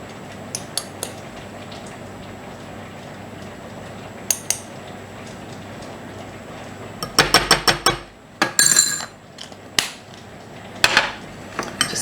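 Turmeric and other spices stirred together in a bowl for green bean chutney: a quiet stretch with a few light taps, then a cluster of sharp spoon-against-bowl clinks and scrapes, close up and without speech.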